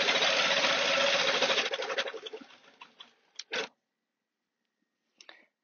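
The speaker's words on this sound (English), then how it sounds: "I'm gonna stitch along." A sewing machine stitches along a quilt in a fast, steady run of rapid needle strokes that slows and stops, followed by a few isolated clicks, close with no talking.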